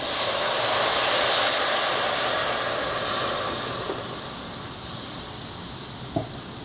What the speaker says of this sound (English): Add in a good Mexican beer